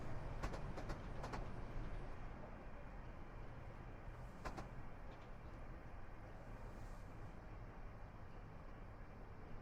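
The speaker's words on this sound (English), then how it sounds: "There's a train that just went by in the other lane to the right." A train passes on the adjacent line in a train simulator game on the London-Bedford Midland Main Line route, heard as a steady broadband rumble from the cab with a few sharp clicks early on.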